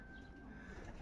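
Racing pigeons coo softly at their loft, a faint, low murmur of calls under quiet background noise.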